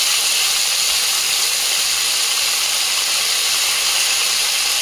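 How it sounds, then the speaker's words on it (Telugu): Eggplant pieces, potato and frozen peas fry in a pan, a steady hissing sizzle that stays loud and even throughout with no pauses. "ఇప్పుడు వంకాయ ముక్కలు, బంగాళదుంపలు అన్నీ కూడా ఒక్కసారి వేసేసి బాగా ఫ్రై చేసుకోవాలి."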